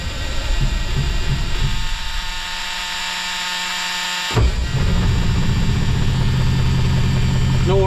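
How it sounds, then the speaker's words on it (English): A 1980 Peterbilt 359 truck engine cranks and catches around the midpoint, then settles into a steady, loud low idle with broad rumble, preceded by dash-area handling noise. "I figured we'd fire it up, let it get some air into it"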